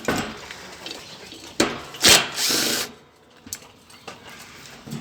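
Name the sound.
power drill undoing ceiling fan screws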